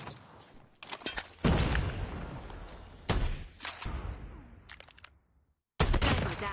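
Gunfire in the mobile shooter Call of Duty Mobile comes in loud, close bursts of rapid shots, broken by short gaps and a near-silent pause before a final volley.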